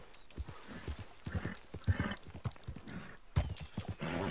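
Horse hooves clip-clop in a steady, uneven rhythm in Red Dead Redemption gameplay, close and fairly loud, with a brief whinny mixed in and no talking.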